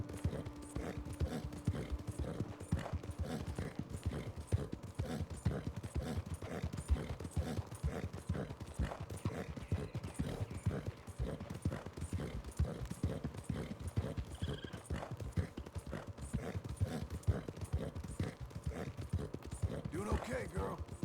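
Steady clip-clop of a horse's hooves in Red Dead Redemption 2, an even walking rhythm held throughout at moderate level, with ambient game sounds and a faint whinny near the end, and a person talking intermittently over it.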